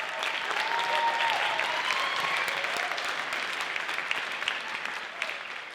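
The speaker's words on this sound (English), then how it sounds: "Let's have a round of applause for the parents." A concert audience at a high school and university jazz event applauds the parents: dense, steady clapping that fills the whole stretch at full strength and eases off only slightly toward the end.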